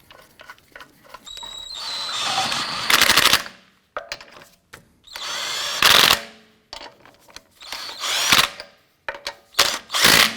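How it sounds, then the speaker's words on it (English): A power tool snugs down wheel lug nuts on a 2004-2008 Acura TL, with loud rattling impact bursts of a few seconds each separated by short quiet gaps, close to the mic. "Get our lug nuts all started by hand first, and then we'll snug those down."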